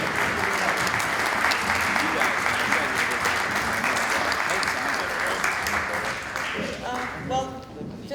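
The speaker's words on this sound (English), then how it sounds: "Let's show a round of applause." Sustained audience applause at a film festival screening, dense and loud clapping from a full room that carries on steadily before thinning toward the end as a voice begins speaking.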